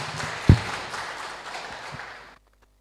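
Audience applause welcoming a contestant, Zhao Jiefang, to the podium at an English and Khmer public speaking contest final, a steady spread of clapping with one sharp near clap, fading out after about two seconds.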